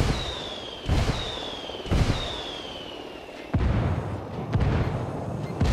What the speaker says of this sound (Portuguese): Estou pedindo por disparos indiretos.